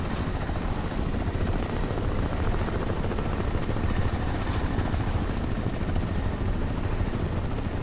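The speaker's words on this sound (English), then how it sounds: "Alright, let's deal with this helicopter." Helicopter from the video game Crysis Remastered, a steady loud rotor and engine drone holding constant throughout with no speech.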